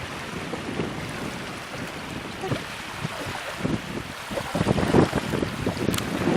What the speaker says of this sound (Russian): Впереди будет идти катер.